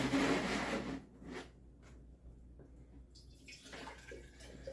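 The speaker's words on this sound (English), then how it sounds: "I'm just going to pour 2 quarts in here" Apricot moonshine is poured into a 10-liter barrel, a brief gushing splash up front that fades to faint trickling and light rubbing sounds, close and with no talk.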